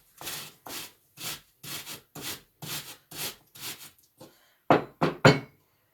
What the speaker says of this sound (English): this old-fashioned grater is a little difficult to use